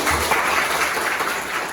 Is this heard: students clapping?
yes